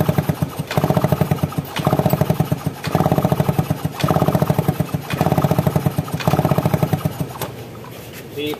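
A Yamaha F1ZR motorcycle with a lost-ignition fault is kicked over repeatedly, giving rhythmic bursts of cranking in about six evenly spaced strokes without catching. The sound is near and fairly loud.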